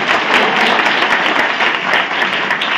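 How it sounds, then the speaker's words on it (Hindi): A congregation at a church gathering claps loudly and continuously, a thick wall of hand claps holding steady throughout with no voices above it. "जोर की ताली मारिबा"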